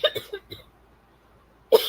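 A short burst of close coughs, several quick hacks in a row, followed by a pause and one more loud cough.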